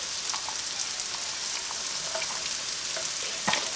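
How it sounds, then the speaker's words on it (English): Mushrooms with minced shallot, salt and pepper sauté in a pan, giving a soft, steady sizzle with faint crackles and occasional stirring clicks, heard alone at a low level. "We're going to add a pinch of salt and pepper to our mushrooms. I'm going to saute these for about 5 to 7 minutes."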